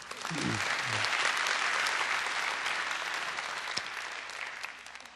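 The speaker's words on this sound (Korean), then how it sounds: "한번 박수 한번 쳐주시죠" Lecture-hall audience breaks into steady applause at a talk event, a voice briefly audible at the start, then sustained dense clapping that slowly eases off while staying full and close throughout.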